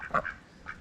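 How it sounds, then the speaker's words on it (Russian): Geese met along a roadside walk in South Goa, India, giving a few short nasal calls: one louder honk near the start, then two fainter ones, with quiet outdoor background between them. "Наши гуси. Один в один, как наши."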